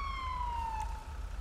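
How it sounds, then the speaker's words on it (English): A police siren in the FivePD mod for GTA V sweeps in a single falling wail, fairly faint and clear over a low vehicle rumble, with no voices. "I need to get my siren off."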